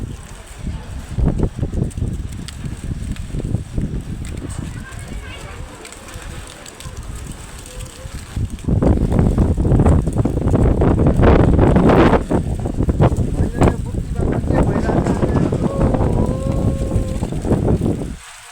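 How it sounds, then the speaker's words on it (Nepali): Strong windstorm gusting in front of a shop in Burtibang, blowing dust, heard as loud buffeting wind rumbling against the microphone, growing stronger midway, with faint bird calls in the background. "आज एकदमै हावाहरू चलिरहेको छ"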